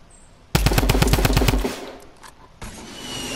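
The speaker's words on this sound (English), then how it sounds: "Fine, I'm shooting at my own." Rapid automatic gunfire in the video game Fortnite, a loud burst of about ten evenly spaced shots lasting roughly a second, followed by a quieter rumbling tail.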